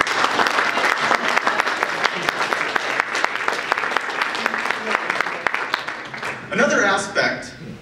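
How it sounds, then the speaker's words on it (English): At a political summit dinner, an audience breaks into sustained applause, a dense, steady roar of many hands clapping that carries throughout and swells briefly near the end. "Will everyone please give Taylor Dalton a round of applause?"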